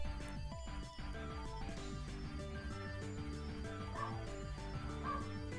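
A dog barks and whimpers indoors during a game session, with yips and whines recurring over steady background sound from the game.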